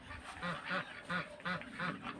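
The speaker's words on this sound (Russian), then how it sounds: "Утки открыли забор, и вот они теперь все здесь." Farm ducks loose in a village yard quack in a run of five or six rhythmic, fairly faint calls close by, with no talking.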